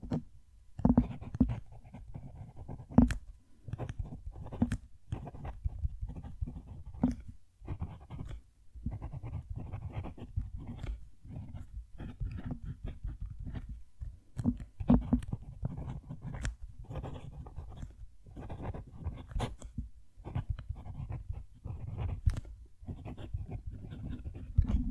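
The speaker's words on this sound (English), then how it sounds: "I'm going to move the mic down to the page so you can hear the nib writing" A Jinhao 250 fountain pen nib writes on paper close up, faint dry scratching strokes in irregular bursts with small taps and brief pauses, quiet and alone.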